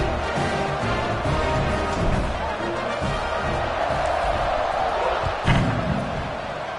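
Loud stadium crowd at a football game roaring and cheering steadily after a scoring drive and extra point, a dense continuous wall of noise with a brief thud-like swell near the end.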